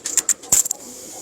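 Pigeons from a breeder's loft give a few short, soft coos and calls in quick succession, fairly close, then fade into quiet room tone.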